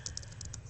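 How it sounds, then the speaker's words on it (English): Quick, light clicks of keys being typed on a computer keyboard, a short burst of about eight taps in an uneven rhythm, close and faint. "I'm going to type in Wilmington"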